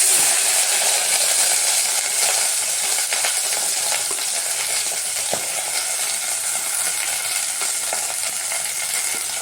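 Shredded cabbage fries in a hot pan with a loud, steady sizzle and hiss, broken by faint scraping as it is stirred, with no voices over it.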